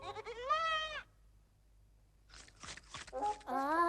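A goat bleats in a short, wavering cry, goes quiet, then after some rustling bleats again at the end, close and clear.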